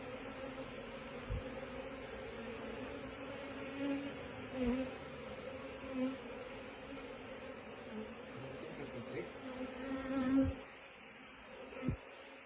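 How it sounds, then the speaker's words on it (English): A steady, droning hum of many honey bees buzzing around a hive in late autumn, with a few louder bees passing close by. "I'm going to check the bees down."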